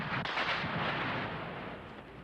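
A heavy, booming burst of gunfire in a street battle during a military clash in Santiago, Chile, rolling out loudly and then fading into a long rumbling echo with no voices.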